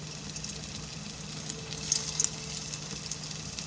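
Boiled eggs fry in hot oil in a wok over a low flame, giving a soft, steady sizzle with a few faint crackles and pops and no talking.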